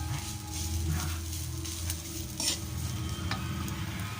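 Bamboo shoot adobo (labong) sizzles in a pan as a utensil stirs it, with soft scraping and clinks over a steady frying hiss, close and continuous.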